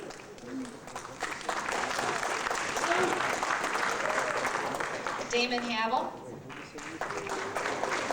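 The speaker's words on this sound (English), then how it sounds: "I saw a distinct rise in applause" Steady crowd applause fills a 1994 high school graduation ceremony at OHHS, sustained clapping from a large audience while an announcer reads names over it.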